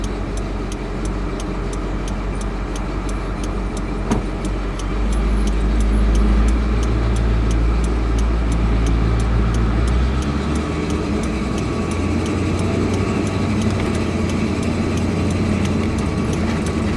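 A pickup truck engine runs at a high idle with the choke on, a steady low drone with a slight rise partway through, heard from inside the vehicle and continuous throughout.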